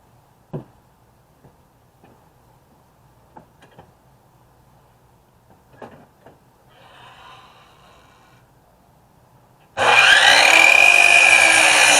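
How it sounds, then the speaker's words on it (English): A saw cuts a 2x4 wooden board to 48 inches. A few faint knocks and taps come first, then a sudden loud, sustained cutting roar fills the last couple of seconds. "I'm going to cut my first piece at 4 feet, all right, or 48 inches"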